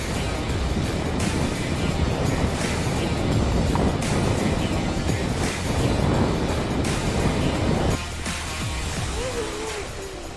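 Strong wind blows over open lake water on a fishing trip, a loud continuous rushing roar with gusty buffeting and wave wash that eases slightly near the end.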